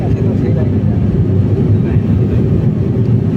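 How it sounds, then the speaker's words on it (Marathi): Cabin noise inside an airplane landing at Kolhapur airport: a loud, steady low roar of engines and airflow that holds constant throughout, with no clear voices. "कोल्हापुरात प्लेन लँड होतानाचं रेकॉर्डिंग आहे"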